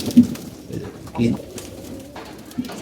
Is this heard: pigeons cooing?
yes